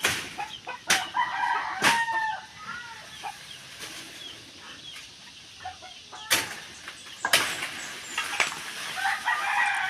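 Chickens cluck and squawk at a moderate distance near a piggery, with a few sharp knocks and rustles breaking in between the calls.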